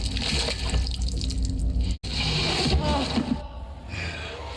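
Loud water splashing at a well in a fantasy drama, with sloshing and splattering bursts and a sharp cut midway, mixed with background sound.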